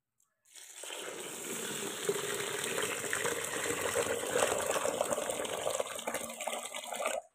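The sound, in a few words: water being poured onto soaking sorghum grains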